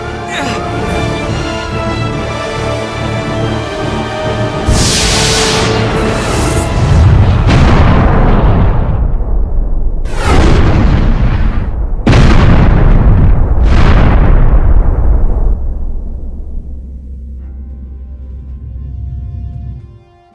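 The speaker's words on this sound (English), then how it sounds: "Incoming fire from the unknown vessel." A spaceship in Star Ocean: The Last Hope takes incoming fire, with a rumbling engine drone broken by four or five loud, heavy explosions and booms in quick succession before fading to a low hum.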